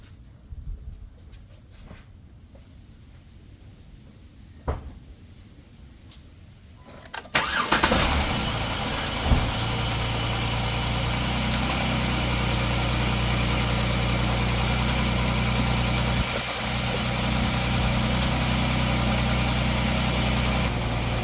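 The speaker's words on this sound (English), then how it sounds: "start engine." A car engine sits silent under quiet hum, then cranks briefly and fires up with a sharp burst, settling into a steady, loud idle that drones on with a small dip later.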